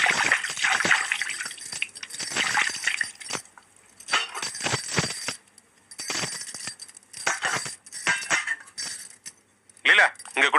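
Liquid is poured into a container with dripping, splashing trickles and light clinks of glass, close and fairly clear. People talk on and off around the pouring.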